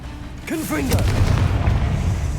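Confringo fire blast spell from Hogwarts Legacy detonates with a heavy boom, following a short whooshing, pitched cast; the rumbling explosion swells and lingers loudly amid busy combat sounds.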